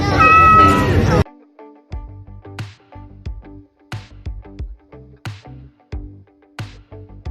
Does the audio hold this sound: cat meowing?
yes